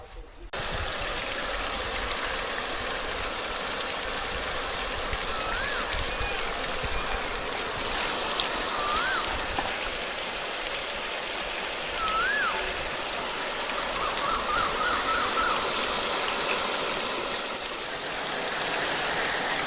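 A running motor pump pushes out a steady stream of flowing water outdoors at a home, giving a continuous rushing wash that stays fairly loud and even throughout, with faint distant voices now and then.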